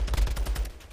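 Rapid gunfire in a Call of Duty match, a quick burst of several close shots in about a second, fairly loud.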